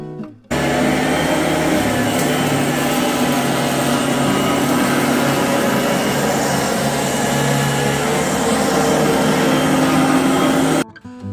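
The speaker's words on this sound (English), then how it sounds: "I just want to show you guys what the vacuum sounds like" An Oreck Elevate Conquer upright vacuum cleaner runs steadily and loudly for about ten seconds, a constant motor whine and airflow roar that starts and stops abruptly.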